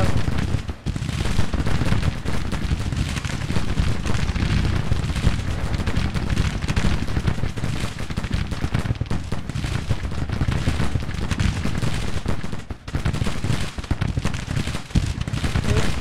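Musket volleys crackle through a Civil War trench battle in a video game, dense overlapping shots and rumbling booms continuing without pause, loud and close throughout.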